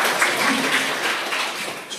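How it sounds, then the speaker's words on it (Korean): A church congregation at a winter youth retreat claps for the worship music, a dense, steady wash of many hands lasting the whole moment at an even level. "박수 한번 쳐주세요."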